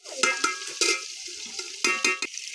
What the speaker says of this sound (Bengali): ছোটো সাইজের আলুগুলো নিয়েছি, তো এইগুলো আমি ভেজে নেবো।